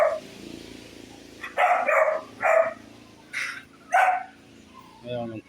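A dog barks in a rural yard where chickens are kept: about six short, sharp bursts at close range, spaced irregularly, with a low voice talking faintly underneath.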